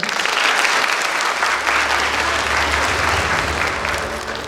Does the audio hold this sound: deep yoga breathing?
no